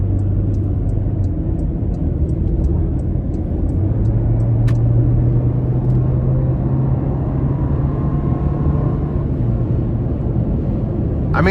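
A 2024 Porsche Macan T with a turbocharged four-cylinder engine pulls hard under acceleration, a steady loud engine drone and road rumble rising gradually in pitch throughout, heard from inside the cabin.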